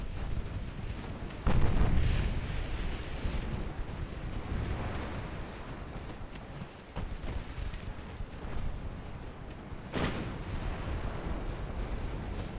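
Naval gunfire in Ultimate Admiral: Dreadnoughts, heavy battleship guns and secondaries booming at a distance, with a couple of stronger blasts standing out over a rumbling, windy sea backdrop.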